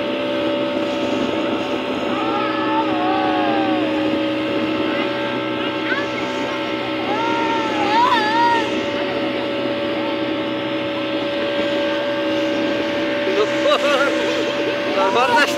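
A speedboat on the water at Green Aranya Park, its engine giving a steady, loud droning hum throughout, with wind and water noise and occasional voices and whistling cries rising over the motor.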